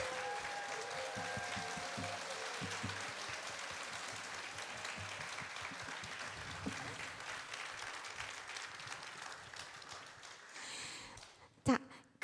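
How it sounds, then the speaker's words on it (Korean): A concert audience applauds a pianist with sustained, moderately faint clapping that thins out gradually, followed by a few scattered louder sounds near the end. "피아니스트 서선옥 교수님께도 큰 박수 부탁드립니다."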